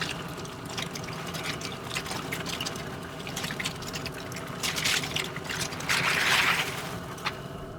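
A sack of live Louisiana crawfish, nice selects, dumped into a boiling pot, heard as a continuous watery bubbling and splashing with a louder rush and clatter of shells near the end.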